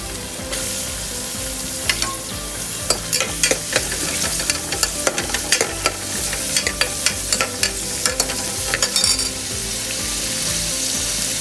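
Onions sautéing in a pan for chicken soup sizzle loudly and steadily as a spoon stirs them, scraping and clattering in quick irregular bursts before it settles back into a plain hiss.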